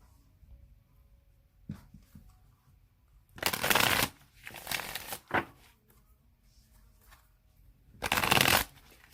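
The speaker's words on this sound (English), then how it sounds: "I was shuffling your cards" A deck of reading cards is shuffled in several loud, crisp riffling bursts separated by quiet pauses and faint handling rustles, close up.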